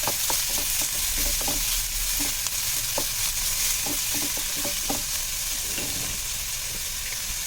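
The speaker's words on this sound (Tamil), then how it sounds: "வெங்காயம் நல்லா ஃப்ரை ஆகணும்." Onions fry and are stirred in a pan with salt for a Tirunelveli-style suvaroti dish, giving a steady, close sizzle broken by repeated scraping stirs, with no talking.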